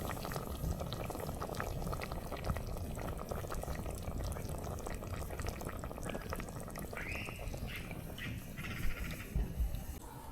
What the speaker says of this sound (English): That's bubbling away quite nicely.